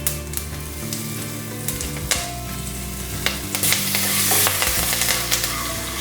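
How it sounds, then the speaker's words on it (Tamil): Mustard seeds, chana dal, urad dal, asafoetida, dried red chillies and curry leaves sizzle in hot oil for aval upma (poha). A continuous close frying hiss carries scattered pops and crackles and some stirring scrapes, and it grows louder toward the end. "எண்ணெய் சூடான பிறகு கடுகு, கடலைப்பருப்பு, உளுத்தம்பருப்பு, பெருங்காயம், காஞ்ச மிளகாய்,"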